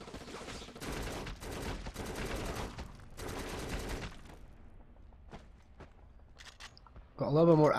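Automatic gunfire in the shooter game Black, several dense bursts over the first four seconds, then scattered sharp pops and a harsh electronic burst at the end.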